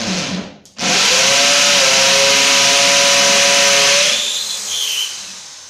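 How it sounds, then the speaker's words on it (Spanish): A 550-watt PROMAKER PRO-TP550KIT hammer drill in percussion mode bores into a surface: after a short lead-in it bursts into a loud, close, continuous rattling whine for about three seconds, then winds down. "vas a colocar tu taladro en la posición de martillo, en la posición de percusión"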